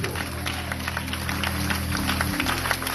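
A church congregation claps for the youth, a steady, fairly soft wash of applause from a crowd inside the sanctuary that continues throughout.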